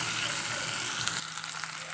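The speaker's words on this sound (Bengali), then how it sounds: "তো আবার আদা রসুনটাকে একটু ভেজে নিচ্ছি হালকা করে।" Ginger garlic paste frying with softened onion and tomato in a pan for a Bengali masoor dal bora curry sizzles steadily up close, with a few scraping stirs and no talk.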